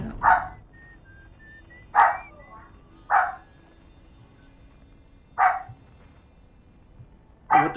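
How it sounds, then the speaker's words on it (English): Five single barks ring out from a nearby dog at uneven intervals as people come through the door, with a quiet electronic tone faintly in the background. "my dog's kind of freaking out at people getting in the door"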